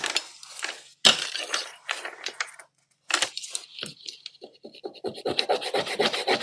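Dry, scratchy rubbing over a small craft piece, close up, in short bursts of strokes with a brief pause partway through.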